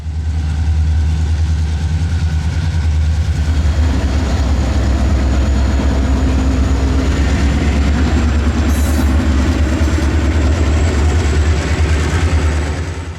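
A CSX local freight train throttles north out of Wildwood Yard on the Florida S-Line. Its diesel locomotive drones in a deep, loud, steady roar, joined by the rattle of rolling cars, with no speech.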